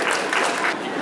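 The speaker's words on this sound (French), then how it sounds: "Je pense qu'on peut vous applaudir tous." Applause from an audience at a civic forum honouring the town of Les Mureaux, a dense steady patter of clapping that fills the full second without a break.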